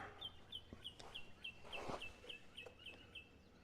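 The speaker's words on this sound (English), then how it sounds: "Chirp, chirp, chirp, chirp, chirp goes the bird." A bird chirps repeatedly in a steady series of short, high calls, faint and a little distant, with soft outdoor noise around it, heard from a garage golf simulator setup.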